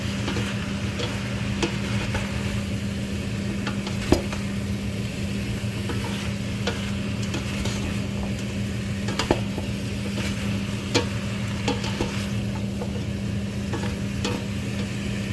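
Squash and shrimp in a frying pan, with a steady sizzle under scattered scraping and clinking from a spoon stirring the vegetables, close and continuous.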